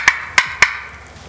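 Three sharp, evenly spaced cutting notes from a turkey call, loud and close, with a brief fading tail and no speech.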